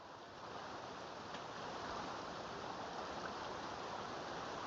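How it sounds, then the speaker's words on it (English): Waterfall in The Sims 3, a steady broadband rush of falling water that holds at an even, moderate level throughout with no voices. "Well, that's the waterfall."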